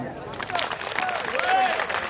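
An audience at a sholawat gathering in Majan, Tulungagung, breaks into applause, a steady wash of clapping and crowd noise that lasts the whole moment, with voices and a faint tonal sound mixed in.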